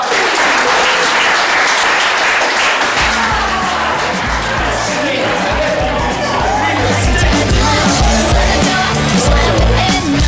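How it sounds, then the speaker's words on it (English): A live studio audience claps loudly and steadily throughout, a dense sustained wash of applause with crowd murmur and a few voices mixed in, while a low rhythmic music bed starts a few seconds in beneath it. "Give yourselves all a round of applause."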